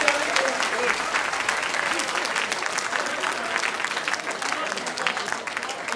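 An audience at a Hindi comic poetry gathering (hasya kavi sammelan) breaks into loud, sustained applause, many hands clapping together in a dense wash, with a voice speaking over it.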